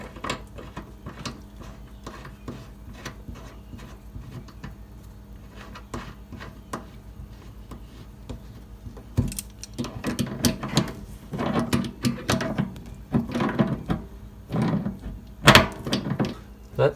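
Metal and plastic parts of a kitchen faucet cartridge click and scrape as it is seated back in the housing and tightened, a run of quiet, close mechanical knocks that turn louder and busier in the second half.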